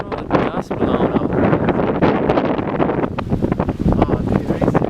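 Strong 40 to 50 mph wind gusts in a severe summer storm on the south central Pennsylvania and Maryland border, roaring and buffeting a nearby microphone continuously, with no clear break in the blast.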